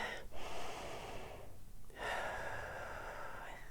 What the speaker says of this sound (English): I'm gonna just take a couple of breaths right now with you.